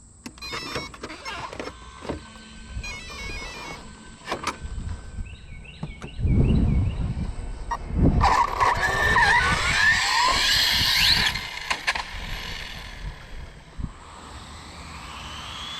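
A high-speed ARRMA Limitless HD RC car runs with a thin electric motor whine that rises and falls in pitch as it accelerates and passes, with bursts of rushing noise. Quiet stretches sit before and after the run.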